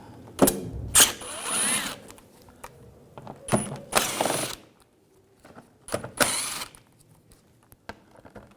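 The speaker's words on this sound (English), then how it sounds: "we're going to take these screws out" A T25 socket ratchet backs screws out on a 2011–2018 Volkswagen Jetta during AC condenser work, several short bursts of rapid clicking separated by pauses, close and clear with no talking.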